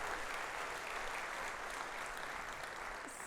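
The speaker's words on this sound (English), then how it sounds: "That deserves a round of applause." Faint, distant audience applause at a live prosthetics company event, an even wash of clapping that holds steady throughout with no voices over it.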